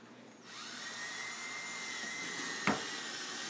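A drill spins up and whirs steadily at close range as it bores holes in a plastic bucket, with a brief sharp catch near the end as the bit breaks through.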